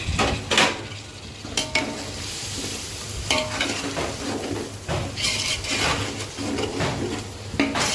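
Tomatoes, ginger-garlic paste and green chilies frying in a pan, with a spatula repeatedly scraping and knocking against the metal in an uneven rhythm over a constant close sizzle.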